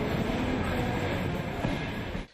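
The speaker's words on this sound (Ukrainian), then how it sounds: "За 5 хвилин 10 на Київський залізничний вокзал прибуває потяг із Москви" A passenger train from Moscow pulls into Kyiv railway station, a steady mid-distance rumble of rolling carriages with faint background voices, ending abruptly.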